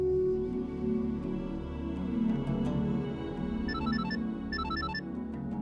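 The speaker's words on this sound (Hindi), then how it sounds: "ज़ारा, तुम्हारा फोन बज रहा है।" A mobile phone rings in short repeated electronic melodic bursts, moderately loud in an indoor room over a low background hum, with no talking.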